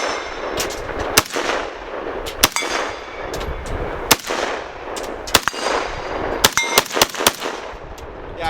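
Several sharp, loud rifle shots from an AK ring out at uneven intervals, with a quick cluster of shots near the end. Each crack is followed by a metallic ring and outdoor echo.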